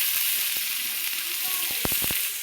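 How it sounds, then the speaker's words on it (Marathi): Ground wet masala paste hits hot oil on a tawa with a steady broadband sizzle, ending in a few louder sputtering pops near the end, with no talk over it. "तेल तापत आले. हे बघा मसाला टाकत आहे."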